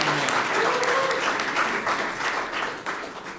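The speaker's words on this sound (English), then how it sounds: "Everybody give Jalen a round of applause" An audience at a swearing-in ceremony applauds warmly, steady clapping from a crowd in a hall that gradually thins and fades over a few seconds.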